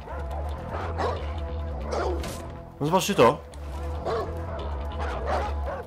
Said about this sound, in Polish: Ten pies mnie ugryzł przez dach?